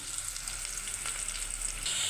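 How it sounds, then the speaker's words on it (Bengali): Onion frying in oil in a pan, a soft continuous hiss and crackle heard up close and fairly quiet for a couple of seconds, with no talking. "এখন এই যে পেঁয়াজটা ভাজার জন্য দিয়ে দিচ্ছি"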